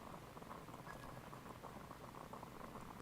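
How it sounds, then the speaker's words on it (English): Water boiling in Genshin Impact, a steady bubbling and seething that stays constant and fairly soft, with no talk. "I'll boil some water."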